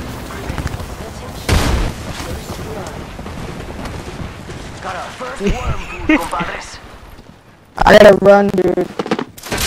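Gunfire and booming impacts in the battle royale game Apex Legends, scattered shots under excited talking, then a loud close burst near the end.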